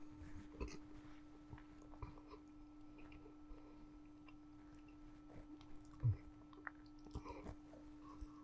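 A hospital patient chews a piece of chicken in a quiet room, soft irregular mouth and bite sounds close by over a steady low hum, with one slightly louder crunch partway through.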